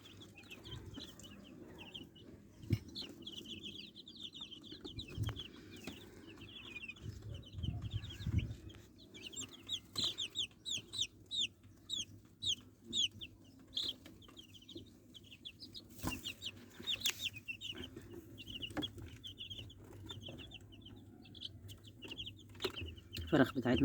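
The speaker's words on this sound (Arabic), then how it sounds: "زي ما انتم شايفين الفراخ بتحب تنكش" Free-range native chickens forage and peck on a small farm, giving soft, scattered clucks at a quiet distance, with small birds chirping high above and occasional low bumps in between.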